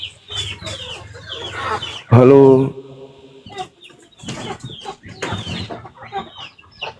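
A chicken clucks loudly and close, with one strong squawk standing out, while someone talks over and around it.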